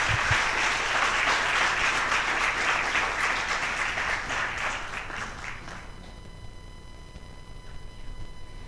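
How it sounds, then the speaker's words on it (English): Audience applause for graduates at a devotional program, a dense burst of many hands clapping that carries on for several seconds and then fades out, leaving a quiet room. "Graduates, a round of applause."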